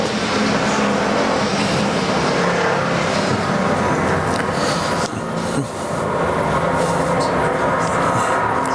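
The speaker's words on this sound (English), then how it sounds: "And Tyler DeLong drives away from the field off of turn number 2." Race cars in a Ford Bomber main event roar around a dirt speedway track at Arizona Speedway, a loud, continuous engine drone with the rise and fall of cars sweeping past through the corners.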